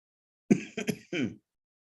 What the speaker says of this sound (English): Excuse my little cough.